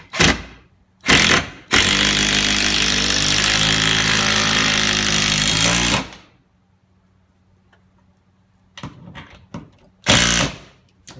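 A power drill drilling into a wall stud for a lumber rack whines loudly and steadily for about four seconds, bracketed by short bursts of drilling and clunks, with quieter handling noise between.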